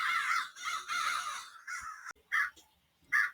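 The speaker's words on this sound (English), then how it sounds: "a thirsty crow looked for water to drink" Crow cawing in a run of harsh, nasal calls, first a few long ones close together, then two short separate caws after a pause, clear against a quiet background.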